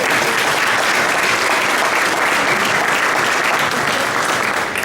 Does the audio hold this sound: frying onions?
no